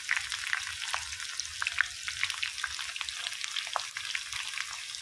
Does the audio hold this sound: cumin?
yes